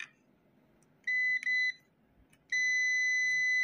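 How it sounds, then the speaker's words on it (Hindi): A digital multimeter on continuity mode beeps while probing a shorted line on a Tata truck's EDC17C55 engine control unit: a short steady tone, a brief break, then a longer sustained beep, loud and close in a quiet workshop. "अभी यहाँ पे भी बीप आ रही है"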